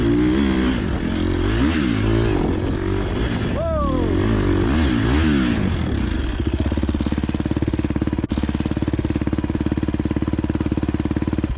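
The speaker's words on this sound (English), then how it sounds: "The video begins with the rider navigating through dense woods on his motorcycle" Motorcycle engine revving and droning as the bike rides through dense woods, with rising and falling pitch from gear and throttle changes, loud and close throughout, partly overlapping talk.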